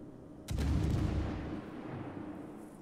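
Naval guns aboard the warship Ognevoy fire in a video game, a single heavy low boom that hits hard and then rolls out into a long rumbling tail.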